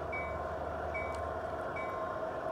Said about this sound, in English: the BNSF power begins to move out of the facility and hook onto their train